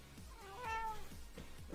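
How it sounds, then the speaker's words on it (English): A house cat lets out one drawn-out meow, close and clear, over a low steady background hum with no talking. "here's my cat"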